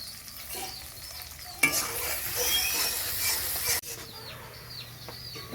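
Chopped onions, green chilli, whole cumin and black cumin fry in hot oil for a silver carp head and potato curry, a loud two-second burst of sizzling and stirring rising abruptly then cutting off, with faint bird chirps and clucks around it.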